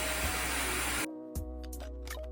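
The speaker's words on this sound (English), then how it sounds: "I usually lift it up a little bit, and then I go in with a dryer." A hair dryer blows loudly on lifted, brushed hair during an Airtouch hair-coloring session, then cuts off abruptly partway through, leaving a low hum and some faint clicks and handling sounds.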